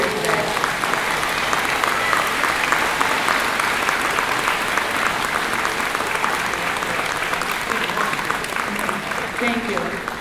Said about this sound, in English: I would like all the graduates to please stand and give a round of applause in appreciation to those who supported you